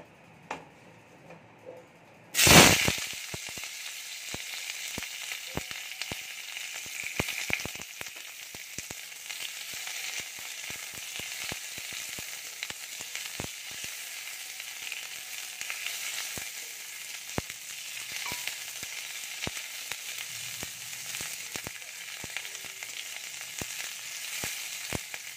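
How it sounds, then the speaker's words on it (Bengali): Capsicum pieces lightly frying in a pan, an abrupt loud sizzle as they go in, then a steady crackling hiss with scattered pops and small clicks that carries on alone at an even level. "এই ক্যাপসিকামগুলো আমি হালকা করে ভেজে নেব।"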